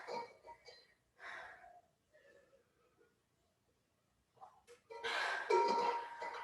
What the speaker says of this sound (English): Hope you're all enjoying the sound of my heavy breathing.